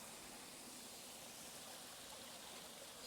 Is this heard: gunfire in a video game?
no